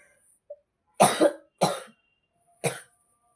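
A woman with a cough and cold coughs indoors: a faint throat sound first, then three harsh, separate coughs spaced about a second apart, close and clear against silence.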